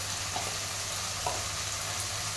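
Ground coriander and cumin powder sizzling in a hot pan for a rui fish curry with elephant foot yam, a steady soft frying hiss with faint stirring, no voices.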